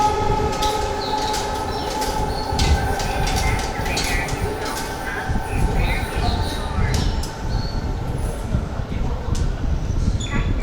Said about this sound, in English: the train is here, we might miss it